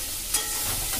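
Kharkol (taro) leaves fry in a hot pan, giving a loud, steady sizzle and hiss that runs the whole time, with a brief scraping stir near the start.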